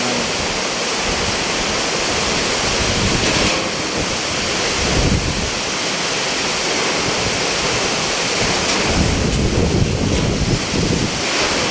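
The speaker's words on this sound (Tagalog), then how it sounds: "tuloy-tuloy talaga ganito kalakas yung hangin." Strong wind from Typhoon Aghon roars without pause, buffeting and surging in heavy gusts, loud and close with a rushing, wave-like quality.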